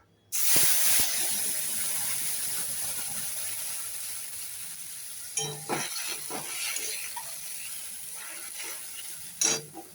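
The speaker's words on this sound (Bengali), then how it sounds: "এইবার আমি এই তেলের মধ্যে আদা রসুনের যেই পেস্টটা আছে এইটা আমি এর মধ্যে ঢেলে দেবো।" Ginger garlic paste hits hot oil with a loud, steady hiss that holds across the whole stretch, broken by a few clinks and scrapes of stirring near the middle and end. No one speaks.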